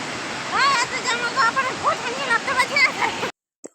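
A steady rush of falling water from the Dassam Falls waterfall fills the scene while several people talk and call out over it, ending abruptly.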